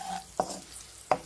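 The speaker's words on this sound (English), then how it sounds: "And we stir it all together" A spoon scrapes twice against a frying pan while chili powder and turmeric are stirred into onion and ginger for Indian-style courgettes, two short sharp knocks over a low sizzle.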